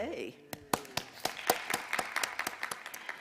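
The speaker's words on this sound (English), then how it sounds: "please stand so that we can welcome you with an applause" Church congregation claps to welcome first-time visitors, a burst of close, sharp handclaps starting after a short word, building into steady scattered applause that continues throughout.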